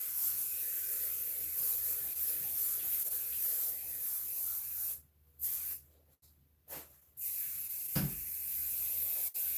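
Bursts of scent spray misted onto a 7.5-foot flocked artificial pencil Christmas tree, a steady close hiss broken by a few short pauses, with a soft thump near the end.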